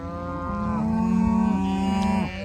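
Cattle moo in a long, loud, close call that rises and holds steady, with a second overlapping bellow near the end, as cows are driven across a street by a herding dog on a farm.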